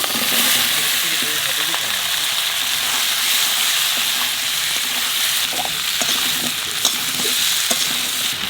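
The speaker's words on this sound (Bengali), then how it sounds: "এবার কচু দিয়ে দেবো।" Taro pieces hit a hot pan of oil with green chilli and ground cumin-coriander paste, giving a loud, steady frying sizzle with occasional stirring scrapes and clinks close by.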